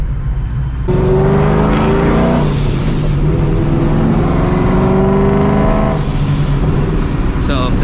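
A loud supercharged New Edge Mustang GT accelerates on a street, its engine droning steadily with rising and falling pitch across two pulls, close and dominant throughout.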